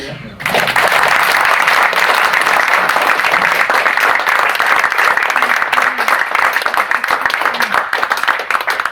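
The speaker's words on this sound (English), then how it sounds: "Emmerson another round of applause." A large audience gives a loud, sustained round of applause for the speaker Ben Emmerson at a legal talk on the Catalan case, dense clapping filling the whole stretch after a brief quiet start.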